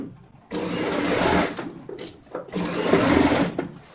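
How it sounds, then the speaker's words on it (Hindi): A sewing machine runs a long basting stitch along a cushion cover, whirring steadily up close for a few seconds, dipping briefly in the middle before picking up again. "और यहाँ पे कच्ची सिलाई लगाएंगे।"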